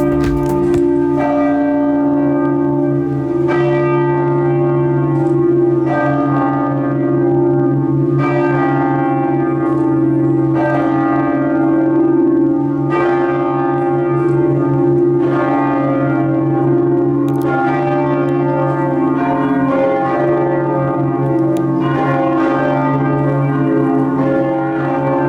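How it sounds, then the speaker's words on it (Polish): The bells of St. Paul's Cathedral in Liège ring loud and close for a long, steady peal. Strikes come every couple of seconds over a sustained humming resonance, with no voices. "Warto zajrzeć także do katedry świętego Pawła, głównego kościoła diecezji Lierz, czy choćby przystanąć i posłuchać jego dzwonów."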